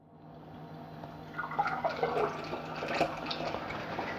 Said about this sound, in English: we'll add a bit of water to top it up